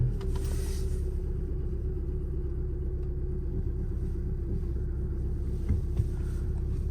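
Car engine idling just after starting with the clutch pressed: a low, steady rumble holding evenly throughout, close and moderately quiet, with no voices over it.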